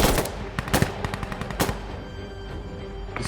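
Rapid bursts of machine gun fire in the Insurgency Sandstorm video game on Xbox One, dense and loud with several quick shots close together over background battle noise.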